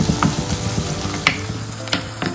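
Okra frying in hot coconut oil for okra mappas, a steady close sizzle with a few sharper scraping or stirring clicks spread through it.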